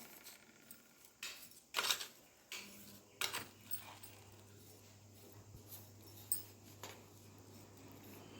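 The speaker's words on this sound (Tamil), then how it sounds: "நம்ம வந்து அதை கிளறி விட்டுக்குவோம்." Spoon scraping and clinking now and then in a pan of sweet moong dal mixture with ghee, cardamom and cashews, soft intermittent taps over a low steady hum, no talk.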